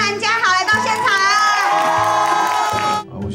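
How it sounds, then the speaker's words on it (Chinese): A cinema audience at a film event cheers and shouts loudly for about three seconds, high excited voices overlapping in a dense crowd roar before it cuts off abruptly. "那我们大家一起热烈掌声"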